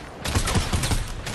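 A rapid burst of gunfire from a Fortnite match cracks out at close range, several sharp shots in quick succession over roughly a second of loud, busy sound.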